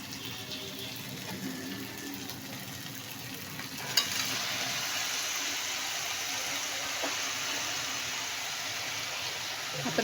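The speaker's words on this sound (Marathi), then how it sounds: "आता मी भाजी हलवून घेत आहे, मिक्स करत आहे." Fenugreek greens with moong dal sizzle steadily in a hot pan while being stirred, a continuous dense frying hiss with occasional scraping clicks, close and alone without talk.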